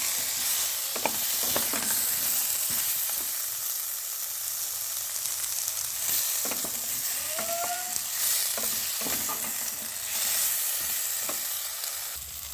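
Vegetables sauté in a pan for golden spinach curry with green chillies, a steady broadband sizzle running throughout with scattered scrapes and clinks of a spatula stirring, close and fairly loud, no talking.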